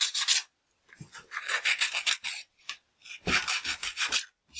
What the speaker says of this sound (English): don't forget to file or to sand the box corners on the edges.